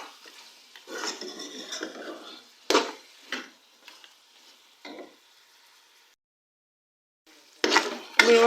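A spoon scrapes and stirs garam masala and spices into beef in a pot, with irregular clanks and scraping strokes, light sizzling between them and a quiet pause before a final burst of stirring.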